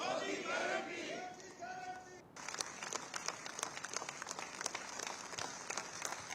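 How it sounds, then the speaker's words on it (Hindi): Rhythmic applause and cheers for PM Narendra Modi at a BJP parliamentary party gathering in Parliament; a voice speaks at first, then crisp, steady clapping from a sizable crowd carries on alone. "जहां प्रधानमंत्री नरेंद्र मोदी के लिए तालियां बजाई जा रही हैं, उनके जयकारे लगाए जा रहे हैं"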